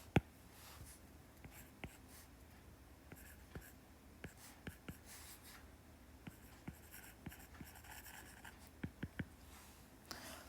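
Marker writing function notation on a board, a series of faint, sharp taps and short strokes spread irregularly through quiet room tone.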